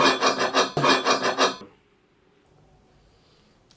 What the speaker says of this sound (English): the sound that they made when I first touched them together